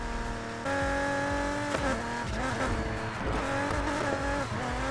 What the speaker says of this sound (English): I'm gonna have to go back to e-brake slide with this thing